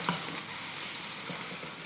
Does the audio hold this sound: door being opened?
no